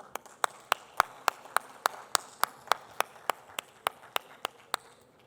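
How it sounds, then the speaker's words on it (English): Steady, evenly spaced claps ring out in a quiet conference hall as a speaker at a private-label brand masterclass is welcomed, each clap sharp and moderately faint with no talking over them. "ladies and gentlemen, a huge round of applause for him."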